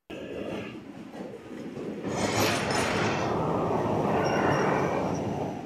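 The Dhalarchar Express pulling into Kashinathpur station: a low rumble builds into a loud, broad roar of the passing train, with a brief high whistle-like tone partway through.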